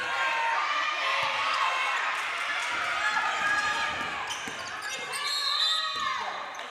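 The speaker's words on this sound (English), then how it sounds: "the crowd goes wild" A gym crowd at a girls high school basketball game between Southeast and Bayshore roars and cheers in a sustained wash of noise, with a commentator's voice running over it.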